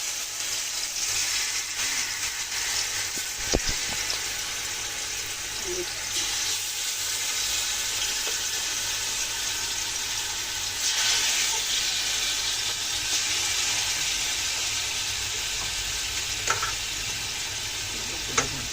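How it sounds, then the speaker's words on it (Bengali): Chicken for rezala frying lightly in a pan, giving a steady, close sizzling hiss throughout with a few sharp utensil clicks and taps along the way. "হালকা করে একটু ভেজে নেব।"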